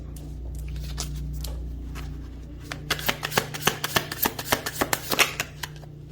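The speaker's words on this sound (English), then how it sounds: "I'm going to pull some more cards." Tarot cards are shuffled and pulled, with a quiet riffling and sliding at first, then a rapid run of crisp, close card flicks and snaps.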